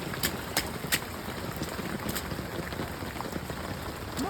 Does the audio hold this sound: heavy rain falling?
yes